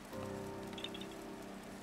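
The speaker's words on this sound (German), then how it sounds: "Es regnet immer noch." Rain falling in The Legend of Zelda: Breath of the Wild, a soft steady patter with faint game tones underneath, no voice.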